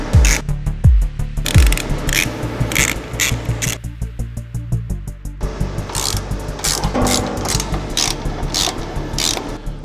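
A ratchet wrench undoing nuts and bolts on a stand being built, its rapid clicking bursts loud and close, repeating in quick runs with short pauses and a few metallic clanks at the start, no talking.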